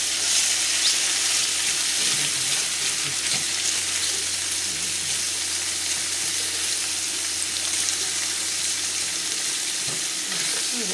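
Food with garlic browns in a hot pan, giving a steady, even sizzle and hiss that runs unbroken throughout with no talking.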